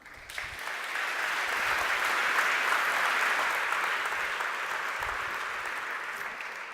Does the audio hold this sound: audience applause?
yes